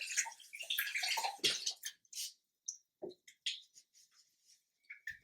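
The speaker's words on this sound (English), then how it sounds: "let me rinse my hands off one more time" Hands being rinsed under running water at a sink, heard as splashing bursts that start dense and then break into short, separate splashes and drips, close by with no talking.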